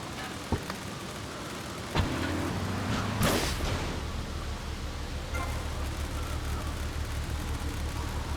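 A car in GTA Vice City rumbles with a low, steady engine drone under broadband road noise, with a couple of sharp knocks and a brief whooshing burst before the hum settles back in.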